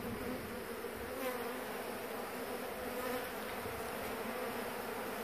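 Dense, steady buzz of honeybees at close range inside a hive within a mobile home wall in Florida, a continuous swarming hum with no voices.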